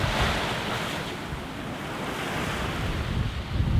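Wind and waves sailing on Chesapeake Bay in an east wind: loud, continuous rushing of water against the hull mixed with heavy wind buffeting the microphone, with no voices.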